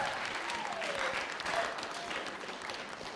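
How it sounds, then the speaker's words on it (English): Youth audience applauding at a 2017 Indspire Youth Tour event, a steady dense wash of clapping throughout with no speech over it. "Give a round of applause for yourselves."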